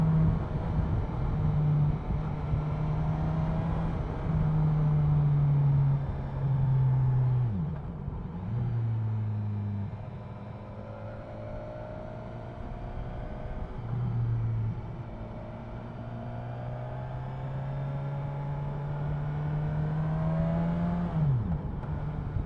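A 2015 BMW S1000XR motorcycle with lowered suspension accelerates through its gears on a quick shifter, its engine note steady and loud throughout with seamless pitch drops at each upshift.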